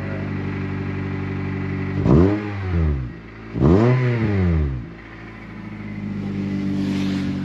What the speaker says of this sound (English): Just a little bit of grumble in this little thing. Give you a little rev.